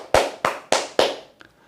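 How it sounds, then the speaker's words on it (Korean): A university class on venture and leadership claps together for team 7 in four sharp, evenly spaced claps, loud and close, followed by a faint tap and then quiet. "7명조 박수"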